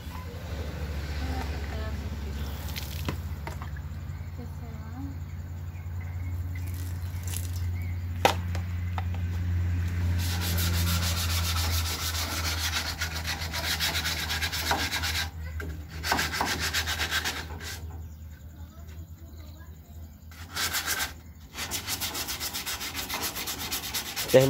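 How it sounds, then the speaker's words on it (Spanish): Sandpaper rubs back and forth in wet sanding with water, a long stretch of steady scratchy strokes that stop and restart, with people talking over it at times. "No le echa más agüita. Eso es para que no se le atore la lija."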